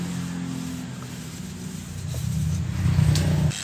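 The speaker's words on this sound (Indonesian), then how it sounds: "Untuk amplas ukiran sendiri ini saya pergunakan mesin gerinda dengan bantuan alat lain yaitu dimmer." An electric grinder run through a dimmer, fitted with 180-grit sandpaper, drones low and steady while sanding a carved wooden chair, its pitch rising slightly toward the end.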